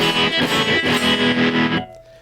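A dense, distorted electric guitar chord rings out loudly through an overdriven amp with reverb and tremolo off, strummed a few times before cutting off to a faint hum.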